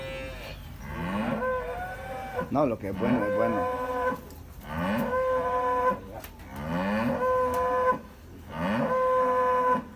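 Large dairy cows and bulls on a milk-producing farm moo loudly in long drawn-out calls, about five of them in steady succession, while people talk in Spanish between the calls.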